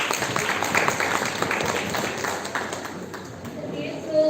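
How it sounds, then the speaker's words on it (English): Audience of college students applauding a guest speaker at a crime scene and forensic investigation workshop, fairly close clapping that thins out and fades over a few seconds. "Can we please have a huge round of applause for Kirti ma'am?"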